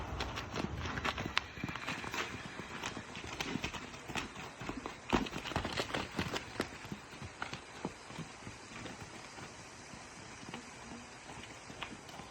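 A horse's hooves step and shuffle irregularly on a trailer floor during trailer-loading training, with scattered close, sharp knocks and clops over a quiet background.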